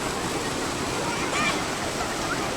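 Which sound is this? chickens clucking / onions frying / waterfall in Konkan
waterfall in Konkan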